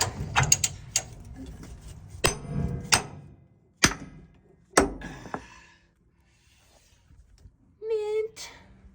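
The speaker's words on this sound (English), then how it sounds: "let's go ahead and we'll ratchet this" A ratchet wrench works on an M35A2 deuce-and-a-half military truck during maintenance, giving a few sharp metallic clicks and clanks spread apart with quiet gaps between them, followed by a short voice near the end.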